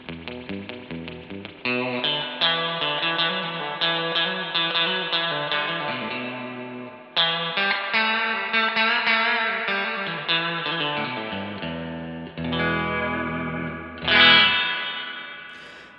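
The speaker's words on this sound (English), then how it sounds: "reverb all the way up on the Fender Hot Rod Deville." A clean Stratocaster electric guitar plays through a Fender Hot Rod Deville amp with reverb turned all the way up, strummed chords and picked notes ringing out with long, washy tails between phrases.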